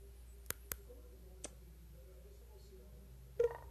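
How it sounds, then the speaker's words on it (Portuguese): Taps on a phone touchscreen, heard as a few sharp isolated clicks in near silence: a quick pair close together, a single tap a little later, then a brief burst of screen-reader sound near the end. "Vou dar dois toques, olha só."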